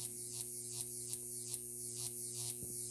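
A Jacob's ladder transformer hums steadily while its electric arc crackles and buzzes, with sharp periodic pops roughly every half second as the arc breaks and restarts; no speech.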